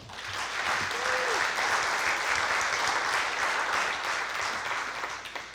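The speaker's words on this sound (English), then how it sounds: "If you could give them a round of applause" Audience applause for the student servers from a National Honor Society at a hall of fame induction ceremony, steady dense clapping held at an even level throughout, with a faint voice briefly audible early on.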